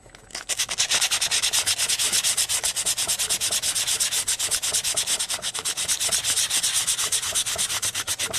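Rapid rhythmic back-and-forth sanding strokes scrub the faces of a Megaminx puzzle, a loud, close, hissing rasp that continues steadily for several seconds without talk.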